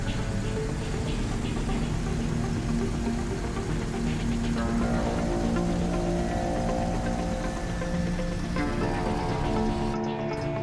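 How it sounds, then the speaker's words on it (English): Engine hum of a vehicle driving itself to a chosen map point in a military video game, a steady continuous drone with shifting tones that holds throughout without talk and drops out at the very end. "Your vehicle will then start moving to the desired location automatically."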